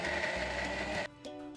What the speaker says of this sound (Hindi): अब इन्हें ले लेती हूं मैं वापस अपने मिक्सर ग्राइंडर में, और अब इसे ग्राइंड कर लिया जाए।